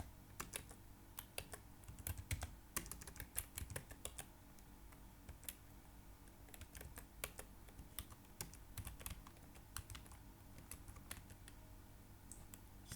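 Quiet, close computer keyboard typing as an IP address is entered, with irregular bursts of crisp keystrokes separated by short pauses.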